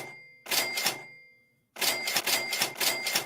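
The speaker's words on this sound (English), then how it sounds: "John Henson, I want to hear the cash register." A cash register sound effect plays in a courtroom as two loud bursts of rapid mechanical clatter with ringing bell tones, separated by a brief silence, with no talk over it.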